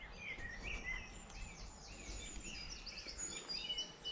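A songbird singing in trees near its nest along a woodland walk, thin high chirps and warbling phrases repeating at moderate distance over a soft outdoor background hum.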